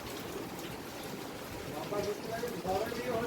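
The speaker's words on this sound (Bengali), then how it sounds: "প্রচুর পরিমাণে বৃষ্টি হচ্ছে" Heavy rain pours steadily outside during a flood, a dense, continuous hiss of falling water with someone talking over it.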